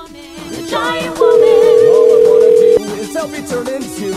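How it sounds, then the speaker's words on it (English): A single loud, steady phone line tone holds for about a second and a half while an internet phone line calls a cell phone, with quieter line noise before and after. "Let's call my cell phone."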